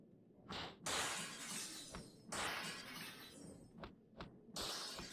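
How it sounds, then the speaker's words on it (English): Glass window panes shatter in the Max Payne video game, several separate crashing bursts of breaking glass in quick succession, each a bright, noisy smash followed by tinkling debris. "I think you can break every individual pane of glass, but not the frame."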